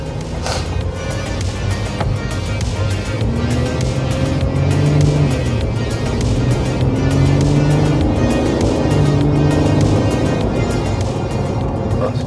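A Ford Ranger Super Duty with a 3.0 V6 engine runs at full throttle under load, a continuous loud drone with slowly rising and falling pitch, heard from inside the vehicle throughout.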